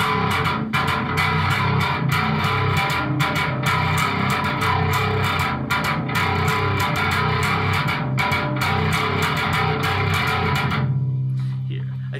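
Slap bass on an Ibanez BTB 6 six-string bass guitar, dense, punchy plucked and popped notes with a distorted, effected tone played continuously before stopping abruptly near the end.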